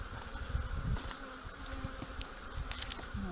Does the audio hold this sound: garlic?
no